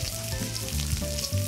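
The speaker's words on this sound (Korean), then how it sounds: "지글지글 고소한 전에 듬뿍 넣어줍니다." A clam pancake frying in a pan with fresh clams, a loud close continuous sizzle and crackle of hot oil, with no voices.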